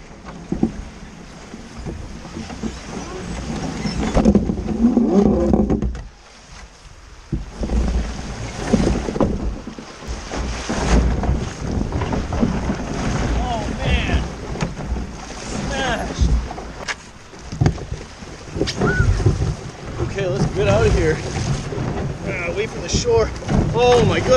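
Wind gusting over a lake during a boat outing, a rough continuous rush with water and boat noise beneath, loud and close, while a person talks over it.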